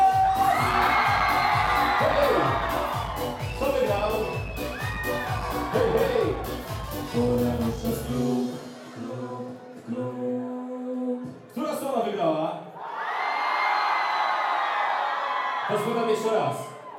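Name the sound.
crowd applauding, cheering and making noise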